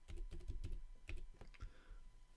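A password goes in on a computer keyboard as a rapid run of soft, close key clicks, a brief pause, then a few more scattered taps, quiet and without speech.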